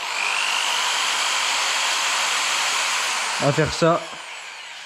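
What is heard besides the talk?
power drill twisting string into a braided rope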